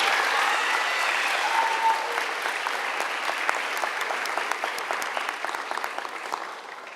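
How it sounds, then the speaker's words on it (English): A school audience at an eighth grade awards ceremony claps for a math award winner, a full steady round of applause that slowly thins toward the end. "please join me in a round of applause"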